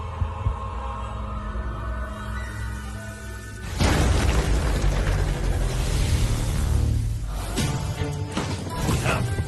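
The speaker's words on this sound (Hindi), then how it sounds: "धमाका।" A blast bursts out in an animated episode, a sudden loud boom after a low throbbing hum, followed by a sustained roaring wash of noise that slowly fades, with a brief voice beforehand.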